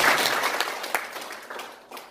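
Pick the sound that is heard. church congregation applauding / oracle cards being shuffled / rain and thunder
church congregation applauding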